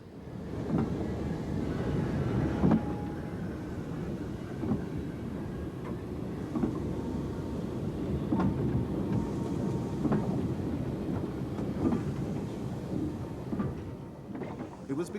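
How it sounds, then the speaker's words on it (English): A very long mixed train on a narrow-gauge main line rumbles steadily past, hauled by a pilot locomotive and pushed by a banking engine, with low continuous rolling and periodic clanks from the wagons throughout. "The two engines just prepared on the shed drop down one by one onto what turns out to be a very long mixed train"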